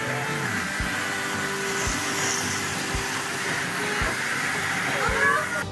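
A toy Christmas train runs close by with a steady whirring hiss and a regular click about once a second, continuous throughout.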